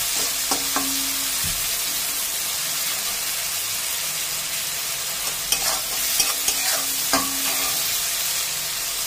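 Spices and fried peanuts being stir-fried in a pan, a loud, close sizzle broken by several scraping stirs and clacks of the spoon.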